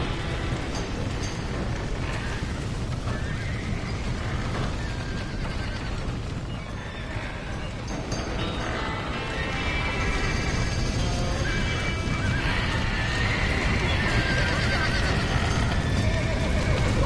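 Horses neigh and whinny amid clattering hooves in the Western video game Red Dead Redemption, loud and continuous over a dense bed of rain-like noise, crashes and chaotic action.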